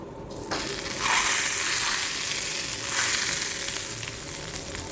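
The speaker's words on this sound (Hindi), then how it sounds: "हम गरम गरम जो है इसके अंदर घी डालेंगे ताकि अच्छे से ये फ्राई हो सके" Hot ghee crackles into frying haleem with red onion, a loud rush of sizzling that swells twice and then settles into a steady hiss.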